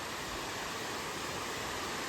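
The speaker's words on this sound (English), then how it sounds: "And right here in front of me I already can see glimpses of the waterfall." A waterfall in the Smoky Mountains gives a steady, dense, even roar of rushing water throughout, with no voices.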